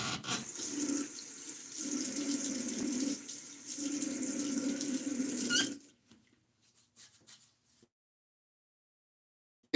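Tap water runs steadily into a sink for about six seconds as a face is wetted before a shave, a close hiss that stops abruptly and leaves near silence with faint small clicks.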